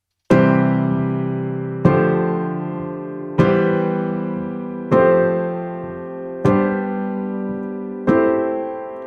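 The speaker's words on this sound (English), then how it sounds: "I'll play each chord for you with this added power chord so you can hear what they sound like." Six piano chords, each a triad topped with an added power chord, are struck one at a time at an even pace, every one ringing out and decaying before the next.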